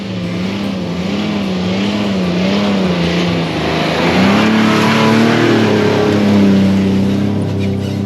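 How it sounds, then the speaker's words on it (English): Land Cruiser engine working hard on a bumpy gravel road in the Kgalagadi, a steady loud drone with pitch rising and falling as it labours, continuous throughout with rough rumbling underneath. "the only way to get over was for the cruiser to use all the cylinders that it has to offer"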